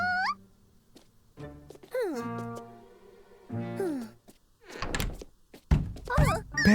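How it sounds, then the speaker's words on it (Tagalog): Repeated thunking knocks on a door in a haunted-house cartoon, a few dull hits spread between bursts of cartoon effects and tonal sounds. "May kumakatok ng paulit-ulit."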